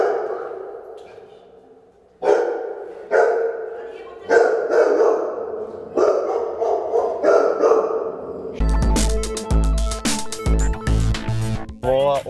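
Two dogs in an apartment hallway, a series of loud, echoing barks in irregular bursts, close by, followed by a harsher stretch of rapid, overlapping barking and yips at the end.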